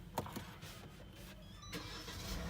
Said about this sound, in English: and start the vehicle.